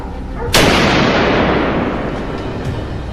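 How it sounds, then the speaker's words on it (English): A single loud, sharp gunshot from a wild boar hunt cracks and then booms away into a long rumbling echo, heard outdoors with no talking. "The gunshots rang out very quickly."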